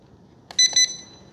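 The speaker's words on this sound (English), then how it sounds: "Now three, you hear the beep, beep, beep." A FMS Toyota Hilux 1:18 RC crawler gives electronic mode-setting beeps, a short cluster of high, thin beeps close by over quiet background hiss.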